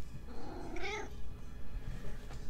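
A single drawn-out meow from a hungry pet cat sounds fairly close, rising then falling, over a quiet steady room hum.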